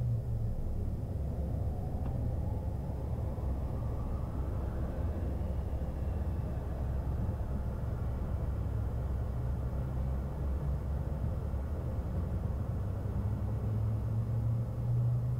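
A Pilatus PC-24 business jet taxis toward the ramp at an airport, its steady engine rumble continuous and fairly loud throughout, with a faint rising whine building partway through; no one speaks.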